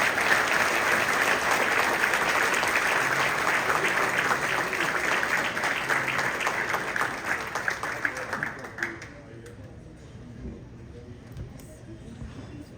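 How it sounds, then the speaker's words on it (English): Applause from an audience at a Catholic school hall of fame induction ceremony fills a hall with steady, loud clapping that thins out and fades over the last few seconds. "Big round of applause for the Right Reverend Monsignor Edward B."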